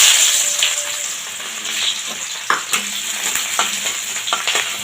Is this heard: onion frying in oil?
yes